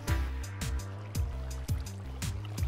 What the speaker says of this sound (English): Where's the water coming from?